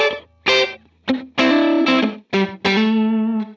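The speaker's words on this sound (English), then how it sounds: "we get a nice bit of short reverb that can be quite interesting with it off" Electric guitar through a Line 6 Helix dynamic plate reverb set to a short decay, several distorted chords struck one after another, each ringing briefly with a tight reverb tail before the next.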